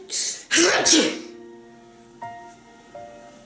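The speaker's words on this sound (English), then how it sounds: "don't you just love those days when you have magic sneezes?" A single loud, close sneeze bursts out with a sharp intake and explosive release, followed by quieter breathy sounds and a soft whimper-like voice trailing off.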